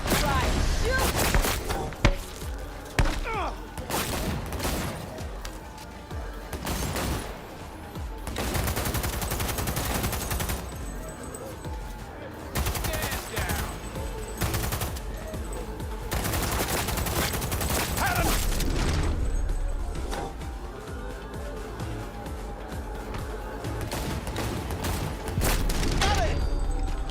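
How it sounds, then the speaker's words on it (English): Rapid bursts of automatic gunfire and scattered booms in Cyberpunk 2077 combat, loud and near, continuing in waves with brief lulls, while voices shout over the shooting. "I'm under fire!"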